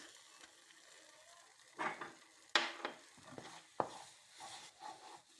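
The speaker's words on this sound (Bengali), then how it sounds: "ভালো করে নেড়ে মিশিয়ে নিয়ে হালকা আঁচে দিয়ে জল শুকিয়ে ফিরছি" A thick palm pulp mixture is stirred in a kadai over low heat, with quiet intermittent scraping and soft knocks of the spoon against the pan, separated by near-silent pauses.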